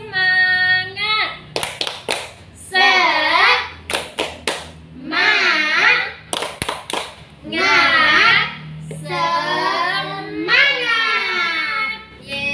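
Schoolchildren in a primary classroom perform a rhythmic clapping chant with their teacher, bursts of sharp group claps alternating with loud chanted children's voices in a call-and-response pattern.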